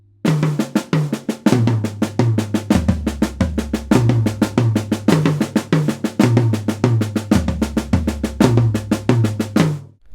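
A drum lick played slowly on a kit, loud and close, with repeated sharp hits over deep low tom or kick tones in a steady, deliberate pattern, continuing for about ten seconds with no talking.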